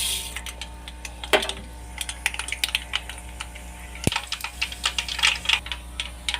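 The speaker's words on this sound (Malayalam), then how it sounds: "അപ്പോൾ അതിലേക്ക് 2 ടേബിൾ സ്പൂണ് കടുക് ഇട്ട് കൊടുക്കാം." Two tablespoons of mustard seeds splutter and pop in hot oil for a Kerala-style chili pickle, giving sharp, irregular crackles and snaps in quick bursts at close range, with no voices over them.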